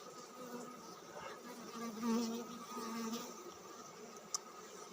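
Huge honey bee swarm buzzing around hive frames, a dense continuous drone of many bees close around, steady throughout with no talk.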